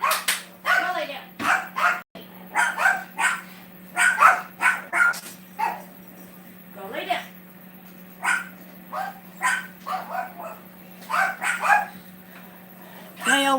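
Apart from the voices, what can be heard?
dogs barking at someone coming in the door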